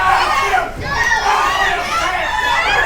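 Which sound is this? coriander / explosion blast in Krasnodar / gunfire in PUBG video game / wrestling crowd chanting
wrestling crowd chanting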